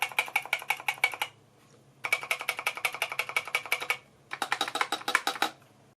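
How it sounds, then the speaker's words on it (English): Rapid keystrokes on a DIERYA gaming mechanical keyboard, clicky and close, typed in three quick bursts separated by short pauses, with no voices. "let's take a quick look at the keyboard itself, and we can then take a listen."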